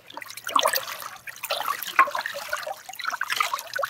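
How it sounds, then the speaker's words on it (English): Sacks being soaked in a bucket of water make close, irregular sloshing, trickling and dripping sounds that continue throughout with no talking. "The best way is to soak them in a bucket of water."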